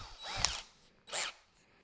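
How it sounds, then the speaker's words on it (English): Two short bursts of a power drill whirring, the first rising and falling in pitch, the second a brief high spin, separated by a pause, during motorcycle wiring work. "now I'm going to get the drill set up."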